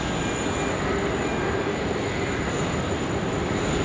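A Jetstar airliner arriving at Sydney Airport, heard as a steady, broad engine roar that holds evenly throughout, with no talk over it.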